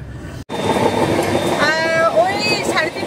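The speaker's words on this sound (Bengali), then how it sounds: "এখন খিরাইয়ের ওপর দিয়ে আমাদের ট্রেন ছুটে চলেছে" The Duronto Express runs on the rails from Bengaluru to Howrah through rainy weather, a steady loud rumble heard from on board. A brief dropout comes early, then a whistling, squealing tone rises and falls over the continuous running noise.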